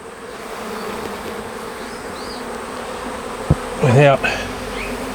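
Honey bees buzz around a nuc hive outdoors, a continuous close hum from many bees, interrupted near the end by a short thump and a brief spoken word.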